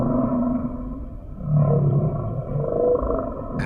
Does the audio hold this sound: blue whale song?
yes